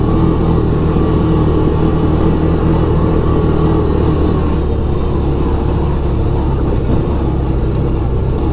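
A 2011 Kawasaki Teryx 750 Sport side-by-side on the move with aftermarket radial tires, heard from inside the cab as a loud, steady engine drone that holds nearly constant throughout, with no talking.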